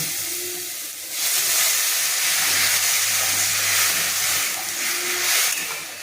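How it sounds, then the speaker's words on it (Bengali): Water hits a hot pan of fried potato, onion and lentils, and a loud, close hiss of steam swells after a second and holds, fading and rising again toward the end. "আমার আলু পেঁয়াজ ডাল ভাজা হয়ে গেছে, আমি একটু জল দিয়ে দেব।"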